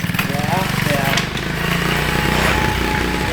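A homemade snowmobile built from a shopping cart runs its engine as it is ridden on snow, giving a steady, close buzzing drone with a slightly uneven throttle. Faint voices may sit under the motor.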